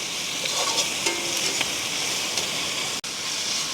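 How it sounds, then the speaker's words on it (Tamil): Tomato and salt mixture being stirred in a cooking pan for a fish curry, a steady hiss and sizzle with faint scraping strokes, close and continuous with a brief dropout near the end. "இப்போ வடிவாக பிரட்டி விடுவோம்"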